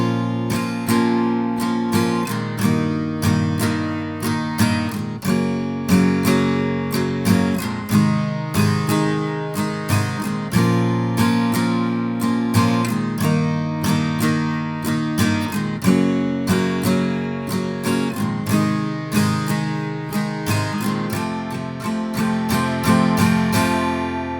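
Acoustic guitar strums the verse part 2 chords of a song with steady, even down strums. The playing is close and continuous, with sharp regular attacks and no voices.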